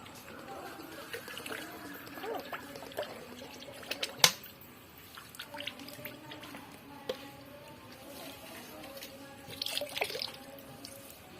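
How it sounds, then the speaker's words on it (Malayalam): Phenyl solution being mixed into a bucket holding ten litres of water, giving quiet sloshing, trickling and scattered drips, with a few sharper splashes and some faint talk. "പത്ത് ലിറ്റർ വെള്ളം ഒരു ബക്കറ്റിൽ ഫുള്ളാക്കിയിട്ടുണ്ട് അപ്പൊ അതിൽ മിക്സ് ചെയ്യാൻ പോണേ"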